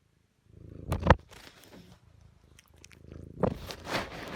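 Tigger the cat purrs softly and steadily up close, broken by a couple of brief louder rustles, with no talking.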